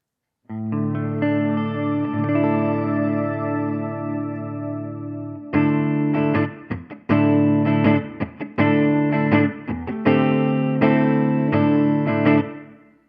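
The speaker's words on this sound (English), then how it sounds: "the reverb trail of reverb A will decay naturally. We call that spillover" Guitar run through a Ventris Dual Reverb pedal, a sustained chord ringing into a long washing reverb trail, then choppy strummed chords whose reverb tails spill over and decay between hits; loud, no voices.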